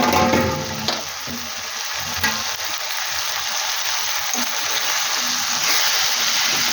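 Sliced okra deep-fries in hot oil with a loud, continuous sizzle and crackle. Occasional scrapes of stirring sound close up over the steady frying hiss.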